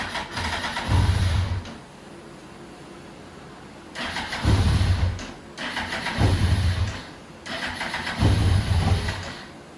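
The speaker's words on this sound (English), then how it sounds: "Well, it definitely wants to start." A crashed 2003 Kawasaki ZX6RR sport bike cranks over in four separate bursts, each a loud starter grind with the engine catching briefly, separated by short pauses; no one speaks.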